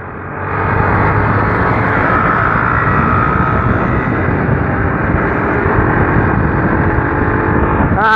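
Honda Fan 150 motorcycle engine running steadily, a close, loud, continuous buzzing drone that holds a fairly constant pitch for several seconds without pauses or voices.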